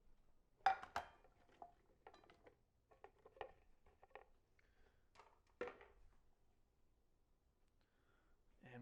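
Fries being set on a plate in a kitchen before frying, with a few sharp clinks and light clatter of dishware scattered through a quiet stretch, close and fairly faint.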